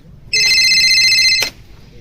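A telephone rings once with a bright electronic ringtone, a single steady burst lasting about a second that cuts off abruptly, heard close over faint background noise.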